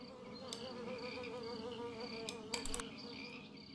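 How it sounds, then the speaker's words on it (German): Wasps buzzing in the video game Mystery of the Ancients: a faint, steady insect drone with chirping tones and a brief clicking flurry near the end. "Das sind die Wespen."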